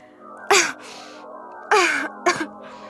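Three sharp coughs, close and distinct, separated by short pauses over a soft background hum.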